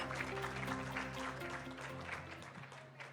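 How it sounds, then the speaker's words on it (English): Applause from a forum audience at a gender outlook event, a dense steady wash of clapping lasting the whole stretch and tapering slightly toward the end, with faint musical tones beneath. "please give them one more round of applause"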